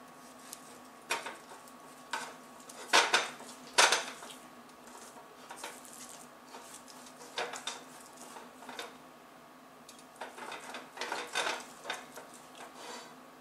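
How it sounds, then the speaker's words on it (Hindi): Sugar being stirred in a pot to melt it: a spoon scrapes and clinks against the pot in quiet, irregular bursts, with a few louder strokes and soft pauses between them. "अब ये चीनी पिघली नहीं है तो मैं इसको ऐसे ही थोड़ा हिलाती रहूँगी"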